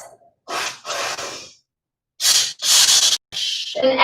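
Forceful breaths in a rhythmic pattern: two sharp exhales, a pause, then three more rapid, strong blasts of air, close and loud.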